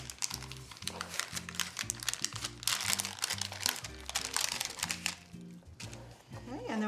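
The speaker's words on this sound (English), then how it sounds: "we're just going to start to roll this with our parchment paper" Parchment paper crinkles and rustles steadily as it is used like a sushi mat to roll a food log made with pecorino, under continuous background music.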